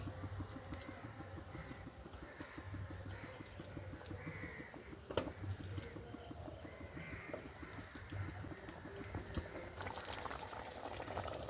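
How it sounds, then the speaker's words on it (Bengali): A pot of tilapia fish curry comes to a gentle boil with soft, continuous bubbling. The sound is quiet and steady throughout, with faint background noise. "একটু ফুটলে তারপর আমি মাছটা দেবো।"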